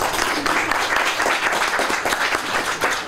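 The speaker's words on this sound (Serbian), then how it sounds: "zaslužujem veliki aplauz svih nas" Sustained audience applause at a book promotion in Zenica, a dense, steady wash of many hands clapping at even loudness throughout, with no pauses.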